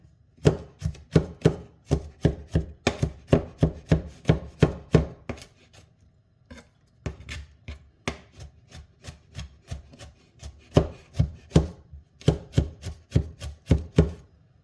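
Rapid knife chops strike a cutting board in quick bursts, close and sharp, with brief pauses between runs of rhythmic crushing and chopping of garlic.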